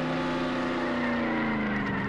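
Car engine in Roblox Jailbreak droning loud and steady at close range, a constant revving tone that holds throughout with no talking.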